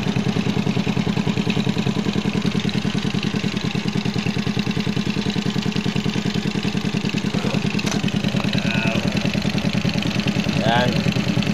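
Smash 110 motorcycle engine idling with a misfiring carburetor, a steady close putter with regular rhythmic pulses throughout, joined by faint short sounds near the end.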